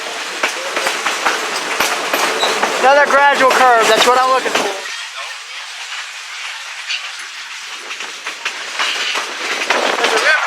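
A passenger excursion train on the Great Smoky Mountains Railroad rolls along a gradual curve, with rumbling wheels, rhythmic clacking and a drawn-out squeal, while someone talks over it.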